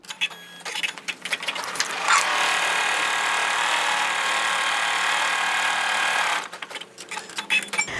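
An embroidery machine stitches a placement line in light pink thread for a snail body on a baby blanket, a rapid, even mechanical whir running several seconds between quieter clicks and handling noises.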